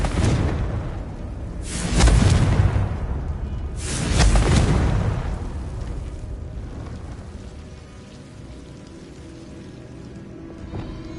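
Confringo explosive spell cast in the video game Hogwarts Legacy, two heavy booming blasts about two seconds apart, each with a broad rushing burst that fades into a low rumbling tail.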